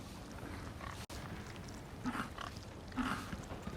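A pig oinking in the Resident Evil 4 Remake video game, a few soft grunting snorts over a steady murky background hum, fairly faint and without any talk.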